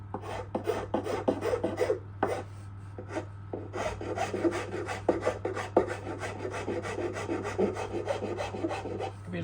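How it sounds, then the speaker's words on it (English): A fairly aggressive wood rasp shapes a wooden violin neck in steady rhythmic strokes, a dense run of close, rasping scrapes over a constant hum of dust extraction. "Start with a slightly larger rasp,"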